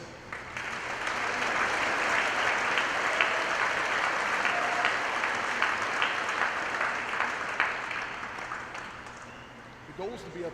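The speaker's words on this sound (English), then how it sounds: "The goal is to be up here by the time the applause stops." An audience at a live-streamed event applauds to welcome an all-star speaker, a dense, steady wash of clapping that holds for about ten seconds before tapering slightly at the end.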